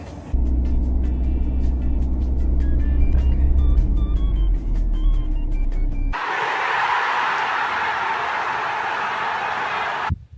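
A car stuck in desert sand in Oman, its tires let down to low pressure, roars with a steady low engine rumble as it is pushed free, then gives way to a loud, hissing broadband rush for the last few seconds.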